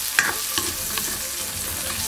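Cucumber (patola) being stir-fried in a pan, a steady close sizzle under a few sharp stirring scrapes and clicks of the utensil, with no talk.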